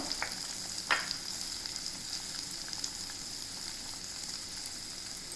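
Raw Totapuri mango pieces cook in a generous amount of oil, giving a faint, steady sizzle with a single sharper crackle or stir near the start and no speech.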